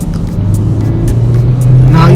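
Renault Duster AWD compact SUV accelerating off-road, its engine note climbing steadily and growing louder, heard close from inside the car.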